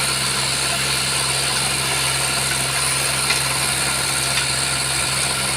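A tractor engine runs with no one at the wheel, holding a steady idling drone with a low mechanical hum and constant vibration, fairly loud and unbroken, with no voices.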